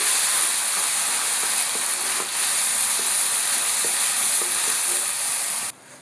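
Idhar sabji fries loudly in a pan, a bright continuous sizzle broken by soft taps and scrapes of a spoon stirring, then cutting off abruptly near the end.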